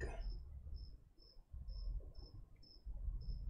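A cricket chirps in a steady, evenly spaced rhythm, high and thin, over low rumbling background noise.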